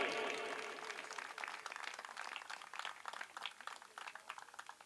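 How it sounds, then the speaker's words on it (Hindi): A crowd at a political gathering claps for a member of parliament, a burst of dense applause that thins into scattered, uneven claps and fades over several seconds. "जोर से ताली बजाओ भाई।"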